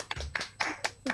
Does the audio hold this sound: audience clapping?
yes